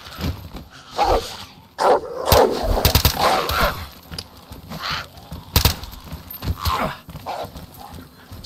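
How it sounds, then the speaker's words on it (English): In the video game DayZ, in the town of Berezino, a dog barks in repeated bursts amid hoof-like clopping and busy game noise, loud and close during a tense encounter. "A dog is not going to last long"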